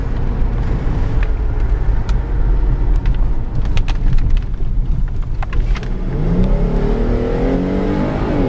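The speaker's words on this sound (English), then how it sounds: "most of the time that I've been driving this truck, it has been on sport mode" A 2016 Jeep Grand Cherokee driven in sport mode with eco and traction control switched off, its engine droning steadily close up, then rising in pitch as it accelerates near the end; no one speaks.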